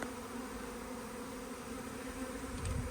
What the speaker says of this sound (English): Yeah, them swarming.